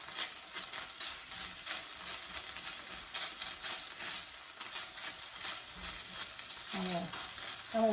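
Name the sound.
chicken frying in a Le Creuset skillet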